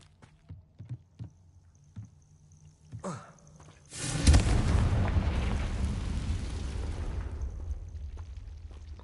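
A spell explosion booms in a wizarding video game: a few light clicks and thuds lead into one sudden loud blast, followed by a long, rumbling roar that slowly fades.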